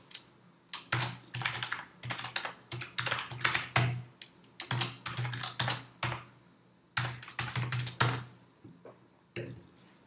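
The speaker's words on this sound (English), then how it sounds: "And type in your username and password." A username and password are typed on a computer keyboard in quick, close bursts of crisp key clicks, separated by short pauses, with no talking.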